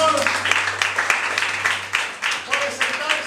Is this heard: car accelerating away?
no